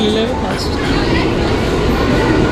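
A Mumbai local fast train bound for Churchgate arrives at a station, a loud continuous rumble of rail cars close by with crowd voices and talk over it.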